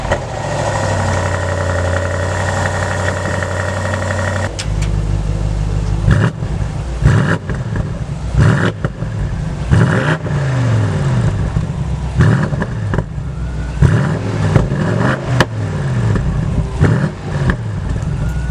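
Idling BMW M850i with its 4.4-liter twin-turbocharged V8, a steady rumble that gives way to a series of sharp throttle blips and revs rising and falling repeatedly, close and loud.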